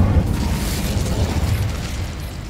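The Incendio fire spell in Hogwarts Legacy makes a sustained roaring burst of flame, a dense rumbling whoosh that swells and slowly fades over a couple of seconds.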